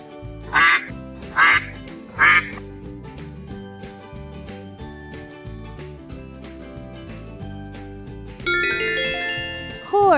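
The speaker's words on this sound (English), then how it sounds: "duck," Three short, loud cartoon-style duck quacks come in quick succession over bouncy children's background music, and a bright chiming jingle closes the sequence near the end.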